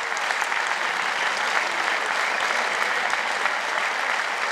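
Sustained applause from an audience at a parish summer camp (CRE) animator presentation, dense and steady throughout, with no talk over it.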